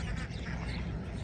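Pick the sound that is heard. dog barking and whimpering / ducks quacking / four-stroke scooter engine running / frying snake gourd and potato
ducks quacking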